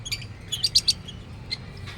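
Hand-fed baby birds chirp in quick, high, thin peeps, a cluster of calls up close followed by a few scattered tweets.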